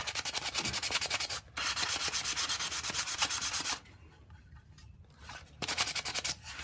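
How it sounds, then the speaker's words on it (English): Sandpaper rubbing along the edges of a plywood box in quick, rhythmic back-and-forth strokes, close and steady, with a brief pause and then a quieter stretch before the scraping resumes. "you'll need to get a little bit of sandpaper and rub around the edges on the outside and on the inside too"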